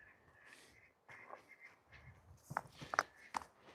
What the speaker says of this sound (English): I can hear my ducks.